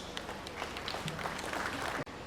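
Audience applause following a closing speech at a business and cultural day event, a steady spread of clapping from a gathered crowd lasting a couple of seconds before cutting off abruptly.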